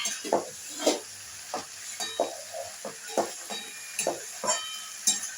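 Shredded cabbage fries in a pan for a cabbage chorchori, with about a dozen distinct scraping stirs over a soft steady sizzle, close and moderately loud, with no voices.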